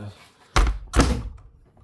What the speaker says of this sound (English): You've got to give it quite the hit with these doors because sometimes it doesn't latch on